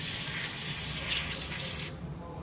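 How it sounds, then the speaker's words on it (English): Carb cleaner sprayed into the carburetor bowl of a Venom x22GT 250cc automatic motorcycle's Nibbi carburetor, a close, steady aerosol hiss lasting about two seconds before cutting off. "Now I'm just gonna clean out the bowl."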